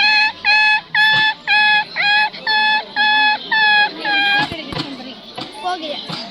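A schoolboy at a children's talent competition imitates a puppy's whimper with his voice, producing about ten evenly spaced, high, whiny cries, loud and close, before the sound fades into a softer, scattered tail.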